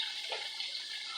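Noodles drop into a pot of boiling water with a splash of oil, giving a brief, steady hiss of bubbling and seething water heard up close with no voices.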